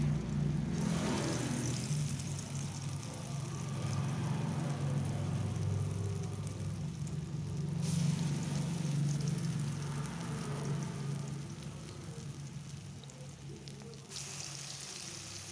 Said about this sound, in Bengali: এখন ওটাই আস্তে আস্তে এক একটা করে ছেড়ে দেবো ডালের বড়ি।